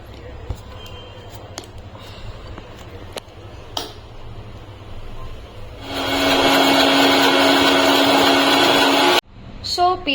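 A mixer grinder blends soaked cashews and mustard seeds, roaring loudly for about three seconds after some scattered clicks and a voice, then cutting off abruptly.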